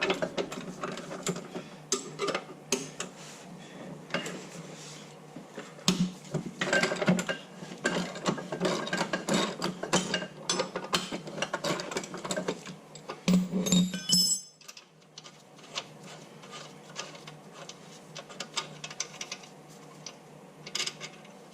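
A ratchet works the lower control arm bolts loose at the axle of a 9-inch rear end on an 82-92 Camaro/Firebird, its rapid clicking rattle running steadily and close for about fourteen seconds before fading to quieter workshop noise.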